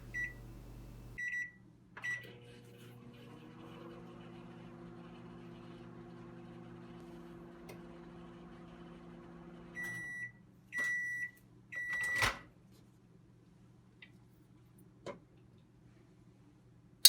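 A microwave oven hums steadily with a low tonal drone through most of the stretch, preceded and followed by a few short beeps and clicks, with no talking.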